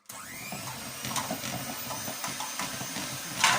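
No-bake chocolate cake mixture being stirred again in a bowl, a steady scraping and whirring with repeated strokes and a brighter scrape near the end, fairly close.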